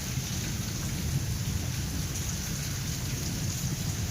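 Steady heavy rain falls throughout with low rumbling thunder underneath, a continuous close and loud thunderstorm downpour with no voices.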